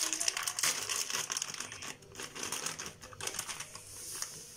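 Plastic bag of basbousa mix crinkles and rustles close up in a kitchen, a dense run of crisp crackling bursts with brief pauses, no voices.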